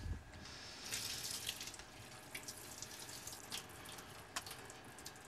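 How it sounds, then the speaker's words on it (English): Water poured off mung beans through a strainer in a kitchen, a soft continuous trickle and splash with a few drips, faint and steady without talk. "I'll strain off my mung beans."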